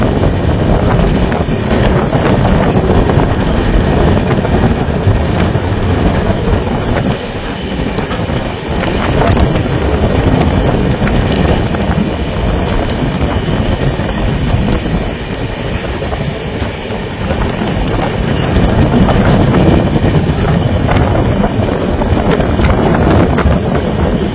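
A Guwahati Garib Rath Express train rolls along steadily with constant rumbling, rattling wheels and wind rushing past, loud and continuous throughout, between Kolkata and New Alipurduar near the Mahananda River.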